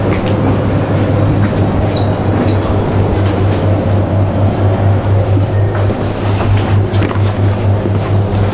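A subway train runs into a station on the way to Lisbon with a loud, steady rumble and low hum, rattling and faint squeals riding on top of the constant rolling noise.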